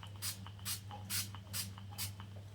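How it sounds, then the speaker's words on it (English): A hand spray bottle misting water onto an ink painting on paper, five short, soft hissing bursts in an even rhythm, close and quiet, with faint scratchy handling sounds between them. "Let's give it some spray. If I spray it for long enough,"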